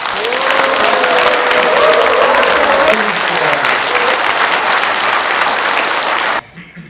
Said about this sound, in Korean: 홍철호 의원께 뜨거운 박수를 부탁드립니다